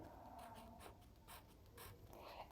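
A pen writes on a surface in a general science lesson, giving faint repeated scratchy strokes in short bursts, alone and without talk.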